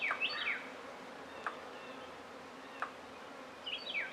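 Honeybees buzz continuously around a hive near the listener, a steady insect drone with a few louder passes, while faint bird chirps sound at the start and end.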